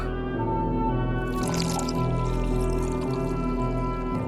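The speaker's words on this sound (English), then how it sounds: "The bottom is an inky void, but you hear the faint gurgling of water." Faint water gurgling deep at the bottom of a well, a soft, watery bubbling that swells after a moment and continues beneath a steady droning background.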